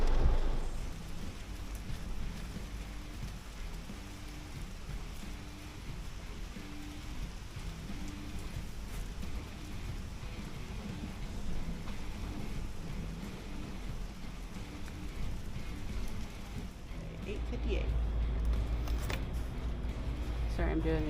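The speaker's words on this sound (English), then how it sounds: "They are going to be soaking wet, but it is a warm rain at least." Steady warm rain and a thunderstorm drum on a car during a food delivery run, a continuous dense wash with low rumbling that swells louder near the end.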